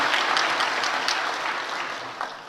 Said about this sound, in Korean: 한번 박수로 한번 하나님께 영광을 돌리겠습니다.